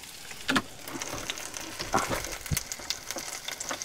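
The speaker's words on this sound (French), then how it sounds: "Le fromage est en train de fondre." Smoked cheese melting in a hot pan gives a soft, steady sizzle with scattered pops and crackles, fairly quiet and close, with no talking over it.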